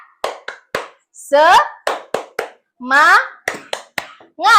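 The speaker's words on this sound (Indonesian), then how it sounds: "Kita tepuk semangat dulu, seperti ini." Students do a rhythmic clapping chant in an Indonesian classroom, with sharp, separate hand claps falling in a patterned beat between short bursts of shouted chanting voices.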